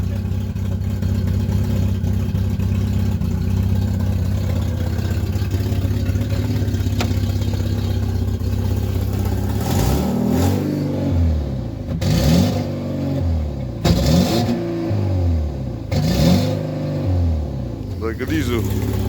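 Diesel engine of a BMW E46 320d, a 2.0-litre car, idling after a cold start, then revved in four short bursts that rise and fall near the listener, with a person speaking over the engine.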